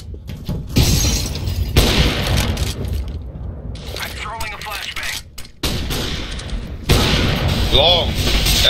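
Gunfire and bursting, shattering impacts from a Counter-Strike: Global Offensive match, loud and close, with a molotov-style fire grenade among the clashing sounds and a player's voice talking over the action.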